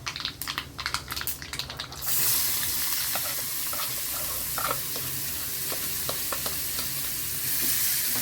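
A few knocks and clatters, then finely chopped onion hits hot oil tempered with cumin, asafoetida and turmeric and sizzles loudly and steadily, with occasional stirring taps.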